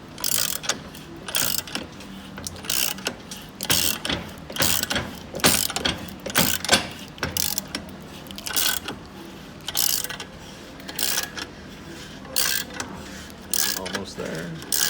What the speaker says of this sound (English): Now we're pulling the bushing up from the bottom.